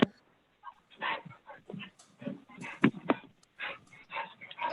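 A pet dog at home barks and yips in a short irregular run of mid-loud calls, fairly near, with no talking over it.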